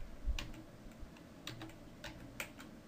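Computer keyboard typing a short command, a few sparse light key taps spread over a couple of seconds, close and fairly faint with no talking.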